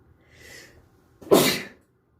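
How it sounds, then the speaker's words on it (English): A soft breathy intake followed by a single sharp, loud sneeze close by, then quiet. "I feel like I want to sneeze."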